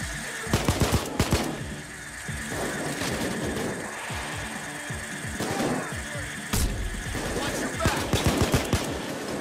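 Rapid bursts of automatic gunfire and single shots crack repeatedly in the Payday 2 shooter game, loud and close, in irregular clusters over a steady background hum.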